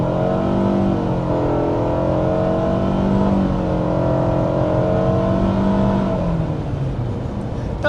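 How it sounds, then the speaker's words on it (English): A 2025 Mitsubishi Outlander accelerates hard in tarmac mode, heard from inside as a loud steady engine drone with rising whining tones from the continuously variable transmission, easing off near the end without speech. "we can do another acceleration here in the tarmac mode"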